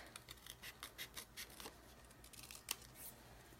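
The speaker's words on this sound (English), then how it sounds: "Then I'm just quickly going to fussy cut the wine cup." Scissors fussy cutting a stamped paper wine cup, giving a quick series of soft, close snips and paper rustles at a low level, with no talking.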